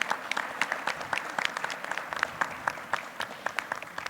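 A weekly assembly applauds together, many people clapping in a lively, uneven burst with distinct individual claps standing out above the crowd.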